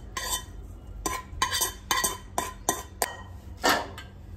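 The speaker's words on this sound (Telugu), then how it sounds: "దీంట్లోనే క్యాలీఫ్లవర్ కాడలు వేసేద్దాం" A metal utensil scrapes and clinks against a pan as cauliflower stalks are stirred in, several distinct knocks in an uneven rhythm, close and fairly loud, with no speech.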